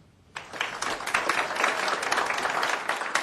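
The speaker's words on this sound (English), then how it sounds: "please give a round of applause for our Veteran of the Month for November 2011, Chuck Ward" An audience at a Rapid City city council meeting applauds the Veteran of the Month for November 2011, Chuck Ward. Dense clapping starts abruptly after a quiet moment and stays steady and fairly near.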